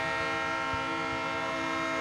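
A vintage excursion train locomotive in Indiana passes close by, a steady loud horn-like tone held throughout over rumbling, clattering wheel noise, with no voices.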